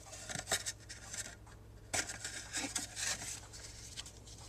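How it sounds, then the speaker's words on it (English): Scissors snip through craft ribbon at an angle for a paper flower, a string of quiet crisp cuts with sharper snaps near the start and around the two-second mark, close by with no talking. "It also helps if you cut your ribbon at an angle"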